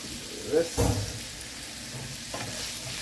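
Mushrooms added to a pan of sausage fry with a steady sizzle, while a spoon stirs and scrapes through them in a couple of brief bursts, close by.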